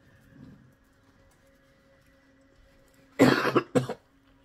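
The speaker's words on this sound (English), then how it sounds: "Excuse me, I gotta clear my throat." After a quiet stretch, a person clears their throat with two short, harsh bursts close by.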